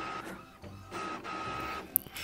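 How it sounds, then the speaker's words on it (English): A household printer runs in close, steady mechanical whirring and feeding noise with a couple of brief clicks near the end, and no talking over it. "Now I have to throw out that printer."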